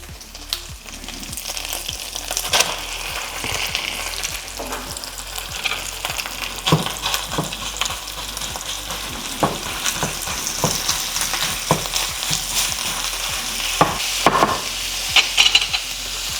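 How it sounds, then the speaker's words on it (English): Ground beef frying in a pan for loaded jalapeño poppers gives a loud, continuous sizzle with crackling pops and repeated stirring scrapes close up, and no talk. "Now we can add the ground beef."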